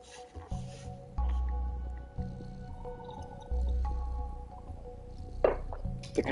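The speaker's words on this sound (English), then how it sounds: "The controller vibrates when the cat is purring" A cat in Stray purrs in low, rumbling pulses, two longer bursts separated by quieter stretches, close and soft with small clicks and rustles around it.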